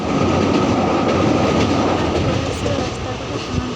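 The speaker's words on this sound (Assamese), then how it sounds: "ট্ৰেইন আহি পালে। এতিয়া আমি ট্ৰেইনত উঠি বহিলোঁ" A running train, heard from inside where passengers sit, gives a loud, steady rumble with rattling wheel noise that fills the whole stretch without pause.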